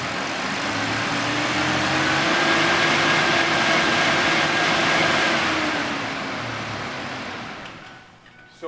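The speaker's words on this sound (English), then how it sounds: "So now you start the car up." A car engine revved and held at about 3,000 rpm during tachometer setup, giving a steady sustained drone with a faint rising whine, loud and continuous before easing off near the end.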